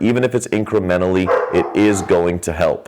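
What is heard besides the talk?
dogs barking and yipping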